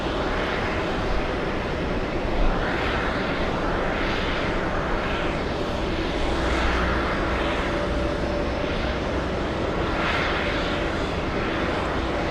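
An Airbus A330 airliner taxis toward the runway for takeoff at JFK Airport, a steady distant jet engine roar with a faint whine, continuous and moderately quiet.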